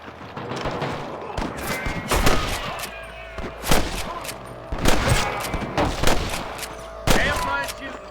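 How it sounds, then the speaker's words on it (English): Rapid gunfire crackles in scattered bursts and volleys in the video game Red Dead Redemption, some shots sharp and close, others more distant, with muffled voices in between. "I can hear more gunshots."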